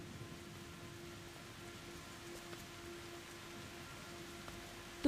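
Soft, steady rainfall patters quietly with a faint constant hum in the background.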